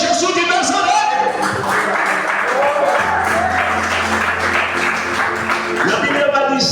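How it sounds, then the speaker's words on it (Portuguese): A church congregation claps and cheers in praise of Jesus, a loud, busy wash of applause mixed with voices and a steady low hum, swelling again near the end. "aplaude a Jesus de Nazaré."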